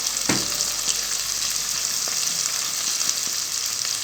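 Coriander hits hot oil in a pan while cooking fava beans with eggs and pastirma, giving a sharp crackle at the start that settles into a steady, close sizzle with faint stirring clicks.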